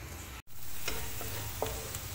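Small chopped onions sauté in hot oil in a pan, a soft steady sizzle with a brief dropout and a few light stirring clicks, faint and close with no talk.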